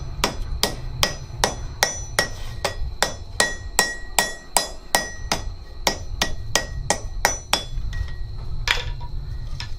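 Hot steel acanthus leaf hammered into the deepest cavity of a doming block, about twenty sharp, ringing hammer blows in a brisk, even rhythm, loud and close with no talking.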